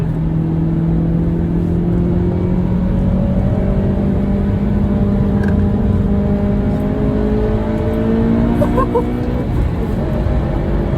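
A Honda Civic Type R FN2 engine drones steadily from inside the car, pitch slowly rising as it accelerates, loud and continuous with a low rumble.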